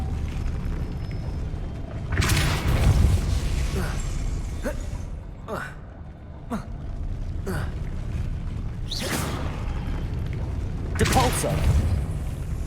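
Depulso spell effects in a Harry Potter video game land as several sharp bursts with booming thumps, spread across the stretch between quieter moments, while a voice speaks between them.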